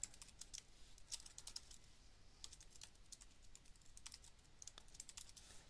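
A computer keyboard is tapped steadily while a simple SQL statement is entered. Soft, quick clicks come in uneven bursts, quiet and close, with no talking over them.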